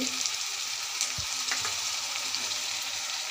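Garlic paste frying in oil with lightly browned onions in a pan, a close, steady sizzle with a couple of soft stirring knocks, no voices.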